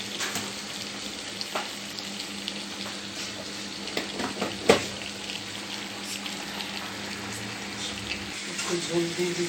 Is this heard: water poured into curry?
yes